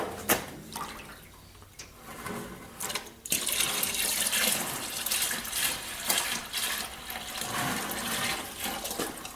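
Antifreeze drains from a 2005 WK Jeep Grand Cherokee into a large pan during a heater core replacement, a continuous splashing gush that swells louder midway and keeps pouring steadily to the end.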